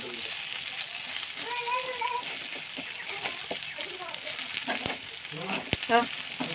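Banana stem fritters fry in hot oil with a continuous bubbling sizzle as they are flipped one by one, with scraping clicks from the utensil and a person talking over the cooking.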